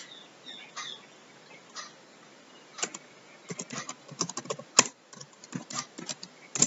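Someone types on a computer keyboard, light scattered keystrokes at first and then quicker bursts of clicks, close and fairly quiet, with one sharper tap near the middle and no voices.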